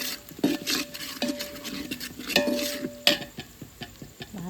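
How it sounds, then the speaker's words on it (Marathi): A spoon stirring jackfruit vegetable in a pan after asafoetida is added: scraping and clinking strokes in an irregular rhythm, close and moderately loud, with faint sizzling beneath. "हिंग टाकून टाकून व्यवस्थित परत एकदा चमच्याने मिक्स करून घेतलं"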